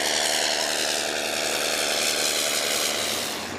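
A propeller airplane engine drones steadily and fairly loudly throughout, with a constant buzzing hum.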